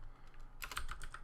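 Quick, faint taps on a computer keyboard as code is typed for a Unity game, a short cluster of keystrokes after a quiet pause.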